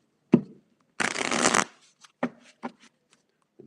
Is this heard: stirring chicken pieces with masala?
no